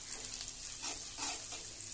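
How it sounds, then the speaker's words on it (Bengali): Ginger paste fries in a pan for khichuri, giving a steady soft sizzle and crackle throughout, with faint stirring movement and no voices. "আদা ভাজা হয়ে গিয়েছে"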